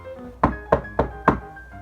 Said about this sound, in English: He put down his wood and knocked on the door to the palace.